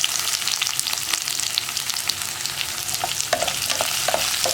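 Sliced onions and green chillies frying in hot garlic oil for a tomato roast, a dense continuous sizzle with scattered crackles and spatula scrapes, close and loud with no voices.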